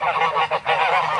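Ducks on a farm give loud, close, raspy honking calls, a few quick overlapping quacks broken by a brief pause, with no talk over them.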